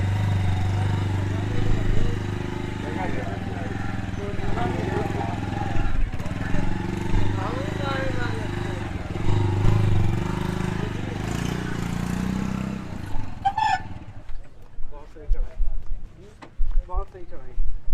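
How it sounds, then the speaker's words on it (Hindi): A motorcycle engine revs and labors loudly as the bike is ridden up onto a river boat, then cuts out, and people talk throughout and in the quieter moments afterward. "अमित ने बाइक चढ़ाई है, सेफली चढ़ाई है"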